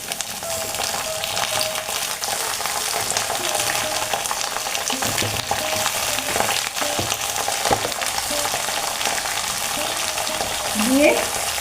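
Washed, cut water spinach fries with potatoes in a pan, giving a loud, dense, continuous sizzle with occasional stirring scrapes.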